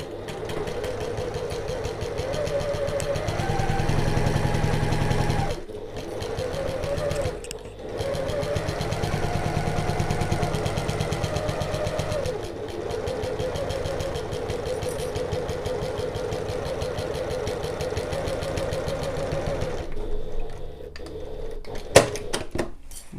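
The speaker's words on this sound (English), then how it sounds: "Okay, I'm going to back stitch at the start and the end." Sewing machine stitching a tote bag seam, including back stitching at the start and end, with a steady mechanical whir. The whir runs for several seconds, breaks off in short pauses and starts again.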